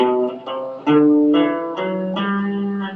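A guitar plays a slow descending Phrygian mode scale, single plucked notes ringing one after another, clear and close with no talking.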